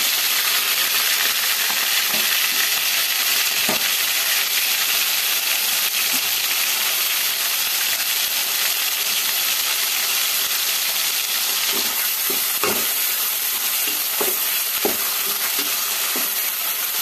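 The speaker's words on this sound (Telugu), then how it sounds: "అవి వేగుతుండగా ఈ ఉల్లిగడ్డ ఒకటి వేస్తుంది" Sliced onion frying in hot oil in a pan, with no mustard or cumin added, gives a steady close sizzling hiss throughout, broken by scattered small pops and crackles near the end, with no talking.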